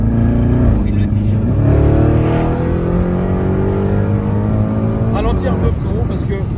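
A tuned, prepared car's engine pulls hard as it overtakes a Citroën, a loud, close, continuous drone whose pitch climbs steadily and then dips briefly near the end.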